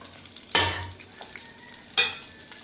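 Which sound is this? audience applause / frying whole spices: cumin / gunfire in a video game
frying whole spices: cumin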